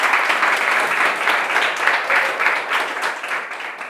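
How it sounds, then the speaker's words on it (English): A group of girls applauding in a studio, steady dense clapping holding at a loud, even level throughout with no talk over it. "Girls, let me hear your applause again"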